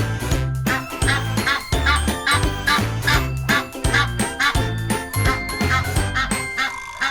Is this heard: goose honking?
yes